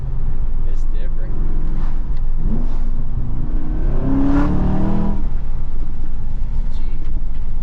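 A car's engine roars and rises in pitch as the driver floors it, the loud cabin drone swelling midway under steady chatter from people inside.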